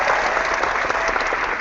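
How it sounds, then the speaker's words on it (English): Audience applause at a customer-experience chat event, a steady dense wash of clapping that holds at an even level throughout this short stretch, with no talk over it. "here comes the applause"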